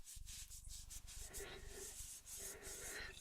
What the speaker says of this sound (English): what we're going to do is really rub this into the surface